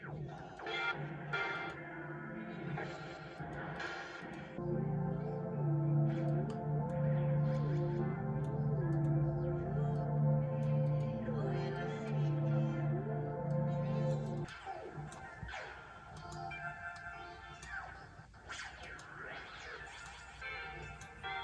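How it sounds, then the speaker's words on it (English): A dense, sustained ambient loop through an analog delay pedal, with a steady low drone and a wavering melodic line, smeared by echoing repeats, cutting off abruptly into thinner, shifting texture. "now we've got this beautiful ambient loop that's going to sit underneath the beat"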